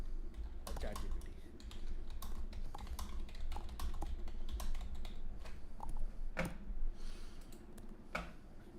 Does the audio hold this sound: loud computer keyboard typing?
yes